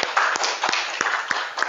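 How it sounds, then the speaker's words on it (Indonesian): A group of students in a classroom claps hands together, with several sharp, evenly spaced claps in a quick rhythm, close and loud. "Tepuk tangan dulu."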